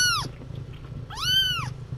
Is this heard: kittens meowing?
yes